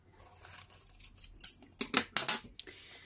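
Scissors snip through folded newspaper in a quick series of crisp, close cuts, a few light strokes first and then several louder, sharper slices near the end.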